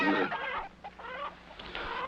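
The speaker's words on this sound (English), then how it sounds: "Now, what set off those goats and chickens?" Chickens cluck and squawk in a few agitated calls, fairly close, against a quiet low background hum.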